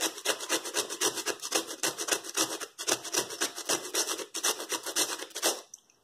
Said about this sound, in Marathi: आता वेलदोडे पावडर, थोडस किसून घेऊया.